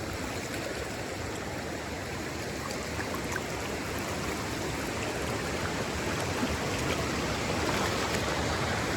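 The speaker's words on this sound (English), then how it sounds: "The water's actually not as cold as I thought it was going to be. So that's a plus. But it is flowing pretty good." Stream water flowing briskly along the Pinhoti Trail, a dense, steady rushing wash that is close and fairly loud, continuous with no talk.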